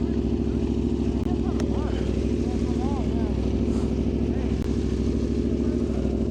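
An Aprilia RSV4 motorcycle engine runs steadily nearby, a loud continuous droning rumble heard from the rider's position at night, with a voice talking over it.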